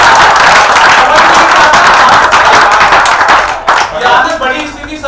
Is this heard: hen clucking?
no